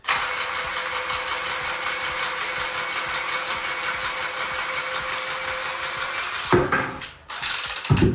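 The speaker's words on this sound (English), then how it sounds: "So I'm going to cut that and then I can put it in." Small powered pipe cutter cutting a heating pipe during a Vaillant ecoTEC Plus 630 boiler installation, a steady rapid whirring rattle that stops abruptly, followed by clicks and handling noise.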